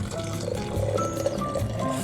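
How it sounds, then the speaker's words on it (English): Hot water is poured into a cup in a small living space, a steady liquid rush with faint clinks, heard close and continuous without speech. "Fill up my cup"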